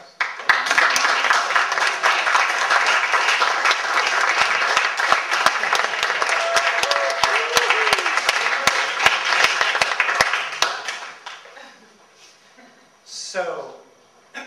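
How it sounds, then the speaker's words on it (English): Audience at a talk on consciousness breaks into loud, sustained applause lasting about ten seconds with some sharper claps, then fades out as a voice begins speaking near the end. "Can we have a round of applause?"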